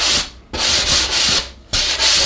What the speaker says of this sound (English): So just swipe over it with your sandpaper.